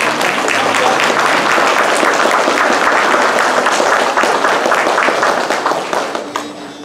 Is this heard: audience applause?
yes